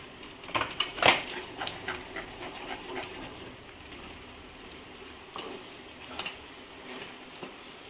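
A spoon clinks and scrapes against a metal pot while stirring ground barnyard millet into a mixture, a few sharp knocks early on, then quieter, irregular scraping.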